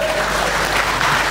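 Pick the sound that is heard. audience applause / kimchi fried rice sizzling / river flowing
audience applause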